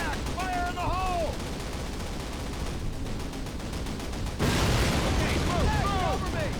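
Call of Duty combat rages as gunfire and explosives go off to take out a flak panzer. Steady rattling shots and rumbling blasts swell louder partway through, under shouted voices and a whistling sound.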